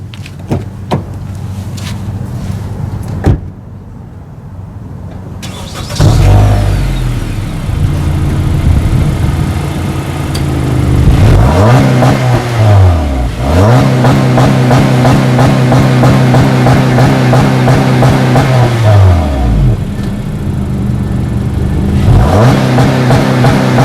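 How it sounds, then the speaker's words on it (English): A 2016 Honda Accord Sport idles in neutral, then revs repeatedly in long rising and falling sweeps up to the rev limiter, loud and close, with a deep rumbling exhaust between pulls. "Exhaust note in neutral, not in park."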